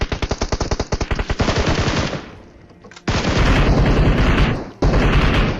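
Automatic rifle fire in PUBG Mobile rings out in rapid bursts, first a fast rattling string, then a pause with a lone shot, followed by long, loud, dense volleys with a short break between them.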